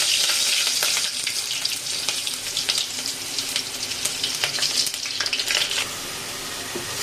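Chopped onions fry in oil in a pan for a Bengali catfish, potato and tomato dish, giving a steady, close sizzle with scraping stirs throughout and no voices.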